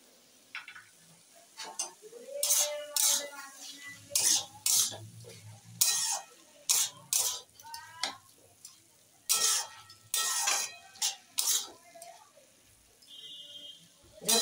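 Kulekhara greens with mustard paste being stirred in a pan, a spatula scraping in quick irregular strokes over a soft sizzle, close and clear with short pauses between strokes.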